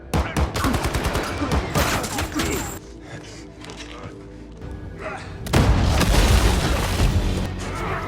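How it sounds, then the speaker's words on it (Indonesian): An action-film gunfight fills the scene with dense rapid gunfire, booms and crashes, loud and continuous, easing briefly before another heavy burst of shooting. "aksi tembak-tembakan pun terjadi"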